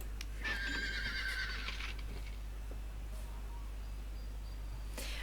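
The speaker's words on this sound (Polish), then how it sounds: "mamy konia, który nazywa się Candy Horse, także kupujemy go" A horse whinnies in the Star Stable video game set in Jorvik, one clear drawn-out neigh near the start over a steady low hum, followed by faint small sounds and quiet.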